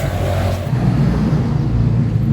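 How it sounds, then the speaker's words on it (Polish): A motorcycle engine hums and revs loudly and steadily nearby, a continuous low rumble with road noise and no voices. "To najlepszy motor na świecie."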